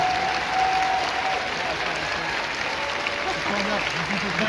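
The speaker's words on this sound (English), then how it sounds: "Give a round of applause" Applause from a fan crowd at a Star Wars convention panel, dense steady clapping filling the hall, with faint voices underneath and a brief tonal note near the start.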